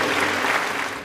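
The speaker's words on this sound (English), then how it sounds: "So, a round of applause." A brief round of applause, a loud, even burst of many hands clapping that lasts about a second.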